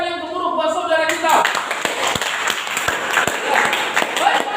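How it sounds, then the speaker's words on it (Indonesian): Applause breaks out just after a voice stops, as a group of students claps in a classroom setting with dense, sharp hand claps that carry on steadily at moderate volume. "Bukan tepukan yang gemuruh buat saudara kita"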